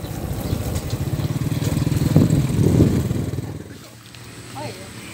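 A motorcycle engine drones steadily and fairly loudly while the bike is ridden in Maluku. Rider chatter can be heard under the engine, and the sound eases off toward the end.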